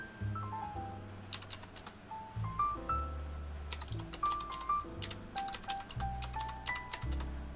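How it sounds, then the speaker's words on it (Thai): Rapid clicky keystrokes on a Lofree Dot mechanical keyboard, typed on a PC with an irregular, steady rhythm of sharp taps heard up close and alone, with no voice over them. "ก็จะเห็นว่ามันจะมีเสียงป๊อกแป๊กเห็นไหมฮะเวลาพิมพ์นะฮะ"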